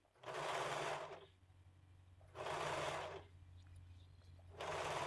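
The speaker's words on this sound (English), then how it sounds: "So pop on over to that serger now and just serge all the way around." A serger runs in three loud, steady bursts with short quiet gaps between, whirring around the edge of fabric while sewing an Isabella puff sleeve.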